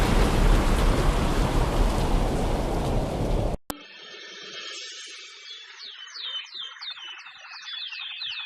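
Rain in an animated story, a heavy, dense hiss of downpour that cuts off abruptly midway and gives way to quieter ambience with chirping birds.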